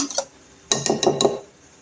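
A utensil clinks and taps against a bowl while yogurt cake batter is mixed with milk. A quick pair of clinks is followed by a short pause, then a run of four sharp knocks close by.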